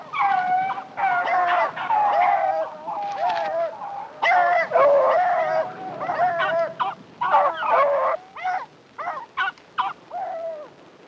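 Beagles bay and yelp while trailing a scent through snow, the pack's cries rising and breaking in short overlapping bursts, close and loud, with choppier, spaced calls toward the end.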